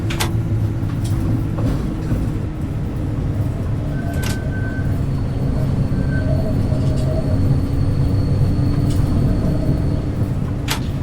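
A tram rolls along in the City Transport Simulator game, giving a steady loud rumble of motor and rails with faint chimes and brief high squeals, continuous throughout with no talk.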